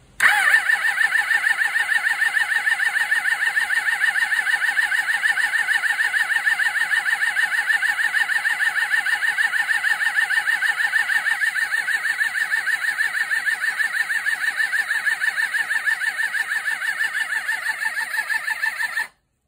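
A 1993 Suzuki GSX600F motorcycle engine cranks steadily on its starter, a continuous rapid whirring chug that never catches, loud and close, then stops abruptly.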